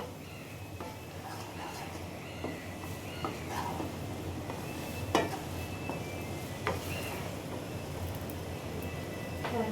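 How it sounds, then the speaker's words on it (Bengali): Garlic pickle stirred in a pan, a low steady sizzle with scattered scraping and tapping stir strokes, soft and close, with a faint background rumble. "তারপর এভাবে কতক্ষণ নাড়াচাড়া করে দেখতে হবে।"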